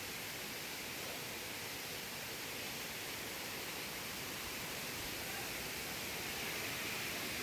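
A forest waterfall near Sakleshpura, heard as a dense, unbroken hiss of rushing water that stays loud and even from start to finish.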